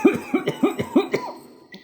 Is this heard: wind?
no